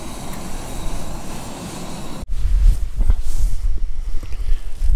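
Wind gusts buffet across the open mountainside of Moel Cynghorion in Snowdonia at a wild camp, a soft hiss that turns into deep, rumbling blasts against the microphone partway through.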